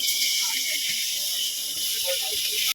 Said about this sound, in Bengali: এখানে আমি তেল দিয়ে নিয়েছি, এবার আলুটা দিয়ে দেবো।